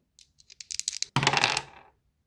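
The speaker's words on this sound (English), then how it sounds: "I'm going to keep on rolling the dice until I get to at least 50 pages total." Dice rattled and rolled onto a hard surface, a run of small clicks building into a quick clattering burst that settles after about a second, close and fairly quiet with no talk.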